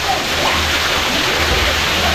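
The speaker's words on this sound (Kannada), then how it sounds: "ಮೇಲಿಂದ ನೀರು ಬೀಳತ್ತೆ." Water spills from above through a carved stone Nandi spout at a temple, a steady close splashing and sloshing rush that runs unbroken throughout.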